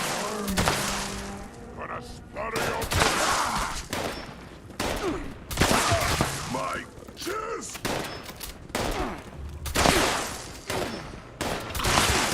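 Gunfire in Fallout 76 cracks in rapid bursts and fusillades, loud and close, with sharp impacts scattered among the shots and a voice talking intermittently underneath.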